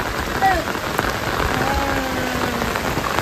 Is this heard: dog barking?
no